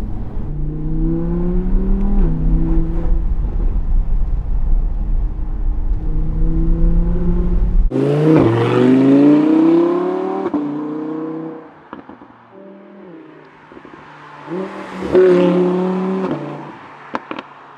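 An Audi R8 RWS engine revs and accelerates hard in a tunnel near Lake Garda, rising in pitch through the gears, loud and close, with a second burst of revving near the end.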